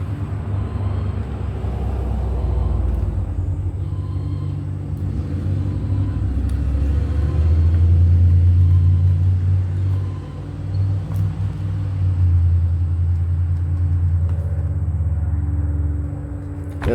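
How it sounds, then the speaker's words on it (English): Outdoors, a deep continuous rumble of cars driving by swells and fades, with a louder passing vehicle in the middle, while a plane overhead adds to the low drone. "We got planes flying over and cars driving by."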